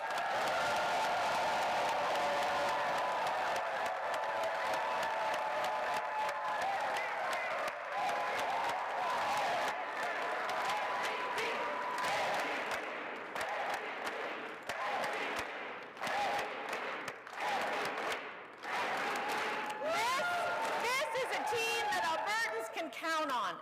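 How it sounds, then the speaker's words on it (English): A big crowd at a political nomination event for the Alberta NDP caucus claps and cheers in a long, loud wave that thins and scatters toward the end. "Please give a huge round of applause for our amazing Alberta NDP caucus."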